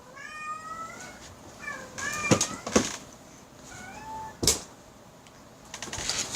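A house cat meows several times in short rising calls, close and fairly clear, with knocks and clattering household noises between them.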